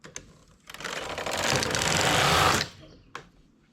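A flatbed knitting machine carriage is pushed across the needle bed, producing a brief rising mechanical rattle that runs for about two seconds between short clicks, close and alone.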